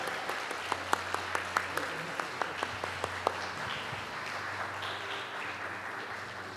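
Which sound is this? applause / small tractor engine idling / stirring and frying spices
applause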